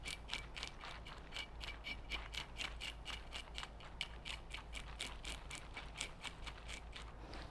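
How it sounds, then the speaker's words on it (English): A fish scaler is scraped along a fish's skin in quick, steady strokes, making a repeated rasping, clicking scratch at close range with no talk. "you can take your fish scaler if you have one"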